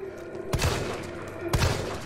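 Two heavy gunshots ring out about a second apart in Resident Evil 3 Remake, each a sharp boomy blast over a steady game background hum, with no talking.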